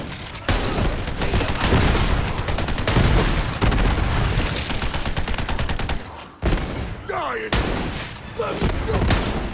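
Rapid gunfire and heavy shooting from the video game Borderlands 3, loud and nearly continuous bursts with a brief pause, barrels being shot amid the fight.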